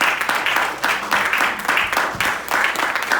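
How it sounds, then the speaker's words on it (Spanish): A church congregation gives the Lord loud, sustained applause, dense rolling clapping with steady intensity throughout, a voice faintly audible beneath it. "Denle un aplauso fuerte al Give the Señor."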